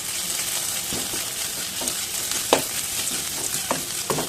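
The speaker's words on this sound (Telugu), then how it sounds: "బాగా వేయించుకున్న తర్వాత ఇలా ఎండుమిర్చి ఇలా పొడవునగా చేసుకుని వేసుకోండి. బాగా మిక్స్ చేయండి." Dried red chillies and turmeric stir-frying in a pan for lemon pulihora, a steady close sizzle broken by sharp, irregular spatula scrapes and taps, with no voices.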